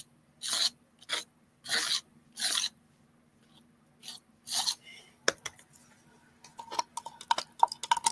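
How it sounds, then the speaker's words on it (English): Palette knife held at a steep angle scraping paste through a stencil, heard as several short rasping strokes, then a run of scattered light taps and scrapes close by. "So I've got my palette knife at 45 degrees when I'm scraping"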